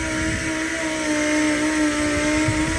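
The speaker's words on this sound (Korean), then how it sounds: "열심히 샌딩기 작업을 하고 있습니다" A steady, continuous motorized whine with a droning hum from an electric sander running close by without pause, sanding a faded car headlight for restoration.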